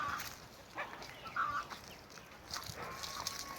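Chickens and roosters cluck and squawk at a moderate distance outdoors near a garden coop, scattered calls rising above a soft, steady background.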